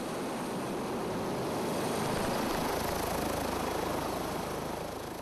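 A military helicopter sits on the ground during refueling and rearming drills, its steady loud rotor and turbine roar a broad constant wash with no gaps, rising slightly midway and holding to the end.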